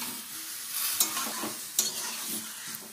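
Vegetables frying in hot oil with dried chilli, bay leaf, five-spice and chilli powder: a continuous close hiss and sizzle with a few sharp spatters and stirring scrapes, no voices.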